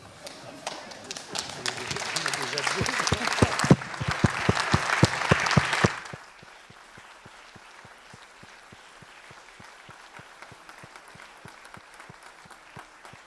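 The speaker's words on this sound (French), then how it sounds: "Je vous demande de bien vouloir vous lever et de vous applaudir." Conference audience applauding at an energy-transition plenary session, loud dense clapping for about six seconds that then thins to a few scattered claps and quiet murmuring.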